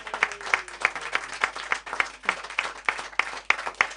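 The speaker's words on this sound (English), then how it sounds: "A big round of applause to you." A small audience at a live music evening at The Drawingroom gives a round of applause, scattered claps with sharp individual hand strikes rather than a dense roar, moderately loud throughout with a few faint voices underneath.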